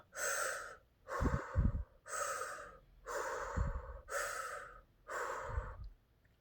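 A person imitates heavy breathing with six evenly spaced, loud, raspy breaths, alternating in and out with brief pauses, close and alone.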